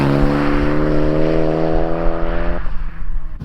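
A MEG-swapped 182 built as a road-legal go kart accelerating hard, its engine note climbing in steady harmonics, loud and close, then dropping into a rougher throttle change near the end; no talking.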